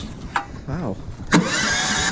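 A Snowdog motorized snow machine's small engine is pulled over and catches, a short cranking rasp followed by a sudden start into a steady running drone, with a person speaking briefly beforehand.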